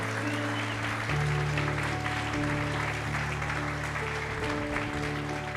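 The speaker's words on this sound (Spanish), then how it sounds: "Denles fuerte, que oigan nuestro aplauso fuerte." Loud, steady applause from a church gathering fills the space, a dense wash of clapping that holds evenly for several seconds without talk.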